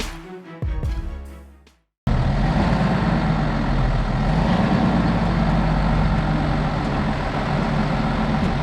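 A tow truck engine idles steadily while cars are loaded, a deep continuous rumble close by after a brief burst of other sound at the start.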